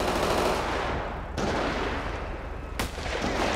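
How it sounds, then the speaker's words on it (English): Gunfire in the video game GTA 5 with a Texas state trooper police mod: rapid automatic bursts roar continuously, loud and harsh, with two sharp cracks standing out through the barrage. "I'm hearing shot fire"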